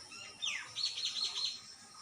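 A white-breasted waterhen calls near its nest with a sharp descending note followed by a quick run of repeated chirps, fairly faint against a quiet background.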